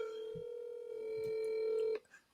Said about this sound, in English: Let me make a little phone call to Lauren and let her know.